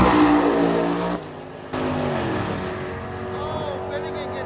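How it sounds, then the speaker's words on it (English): Oldsmobile drag car, a wheel-standing Olds, roaring off the line at a drag strip during Sick Week, loud engine revving and pulling away with a brief gear-change dip, then fading as it heads down the track. "So we also have the Olds over here, which likes to do giant wheel stands."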